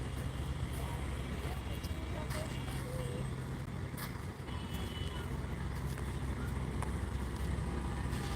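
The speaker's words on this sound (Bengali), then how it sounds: "এই যে আপনারা দেখতে পাচ্ছেন অনেক বড় একটা লঞ্চ আসতেছে" A large passenger launch on the Turag river gives off a steady, low, continuous engine drone with a constant rumbling wash underneath, while people talk over it.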